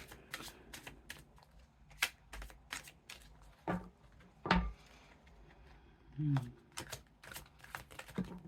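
Tarot cards shuffled by hand in bursts of crisp riffling and flicking, with soft taps and pauses between, close and fairly quiet, with faint talk now and then.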